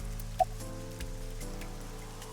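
Rain falling in the Ai: The Somnium Files video game, a soft steady patter of drops under a low sustained musical drone, with one brief tap standing out early on.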